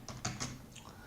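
Quiet clicks of a computer keyboard while C# code is typed, a few distinct keystrokes close together in a brief, soft burst.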